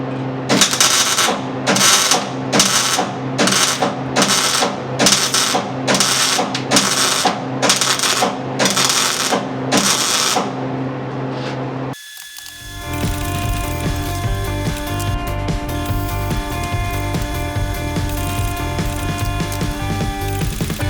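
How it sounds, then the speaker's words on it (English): Stitch welding on the metal of a hot rod, a loud rapid run of regular buzzing bursts with short gaps, then a sudden switch to a steady, continuous buzzing hum. "You may have heard me stitch welding some of it and continuous welding other parts of it."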